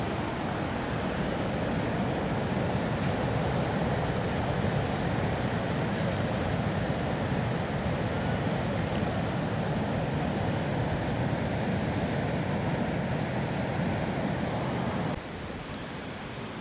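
Steady roar of wind and surf on a long beach at Agadir, Morocco, on an overcast, very windy afternoon, a continuous broadband rush that drops slightly at the end.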